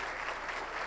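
A church congregation breaks into applause during a service, a short burst of dense clapping from a crowd that sounds fairly distant and soft.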